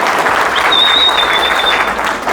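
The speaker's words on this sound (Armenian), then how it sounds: "հիմա էլ քեզ ծափահարեցին։" Warm applause from a small family gathering celebrating a grandmother's birthday in a village home, steady clapping close by throughout with a faint high whistle partway through.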